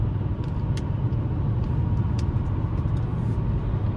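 A 2015 Chevy Malibu LT cruising in 6th gear on a slight uphill, with a steady low engine and road rumble from inside the cabin and faint occasional ticks, no talking.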